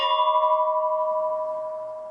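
A single strike of the memorial bell at Whitefish Point, a clear metallic tone that rings out and slowly decays with a gentle pulsing shimmer, alone and close.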